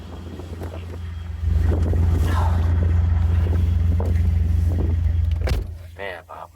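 A 1992 Chevrolet 454 SS pickup with 31k original miles pulls away, its steady low engine rumble loud and close for several seconds before fading, with faint wind noise and brief voices near the end.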